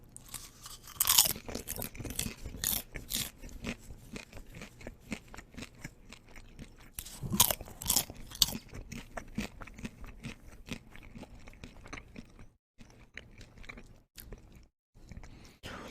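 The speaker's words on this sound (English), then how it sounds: "Let's get some more popcorn sounds here." Close, crisp crunching of popcorn being chewed, in irregular bursts of loud bites followed by softer munching, with brief pauses.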